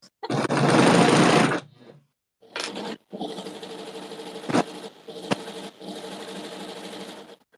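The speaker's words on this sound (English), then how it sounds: "Because we're doing such close stitches, it takes a little longer." A sewing machine stitches close, dense stitches on a skirt in several runs, a loud steady whirring hum in bursts with brief pauses and a few sharp clicks between.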